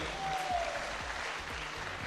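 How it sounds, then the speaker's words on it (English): Faint, distant applause from an audience at an Amway event, a soft continuous patter of clapping under a low background hum. "Let's give a big round of applause to Amway."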